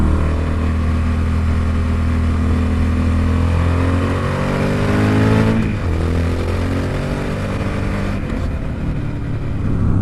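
Motorcycle engine runs loud and close, its note sagging through a downshift before rising again under acceleration into a corner, all steady and continuous with no talking.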